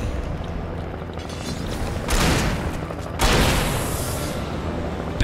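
Gunshots and booming blasts in Alan Wake sit over a steady rumbling backdrop. Two heavy, loud bursts land about a second apart, each fading out slowly.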